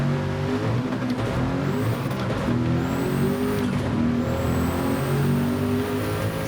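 Race car engine in the Gran Turismo 7 video game during a weekly challenge race, a continuous loud drone with rising pitch sweeps through gear changes, no talk.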